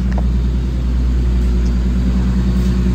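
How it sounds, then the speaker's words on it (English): A 2015 Infiniti Q50 with a 3.7-liter engine and all-wheel drive idles steadily, a loud, even low-pitched drone with no misses or stumbles, close up and continuous throughout with no talking. "Engine started right up, runs nice and strong, no hiccups or anything."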